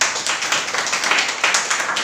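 Church congregation clapping in a steady rhythmic beat during a Hindi-language worship service, dense hand claps repeating about every quarter second, fairly loud and close with no talk over it.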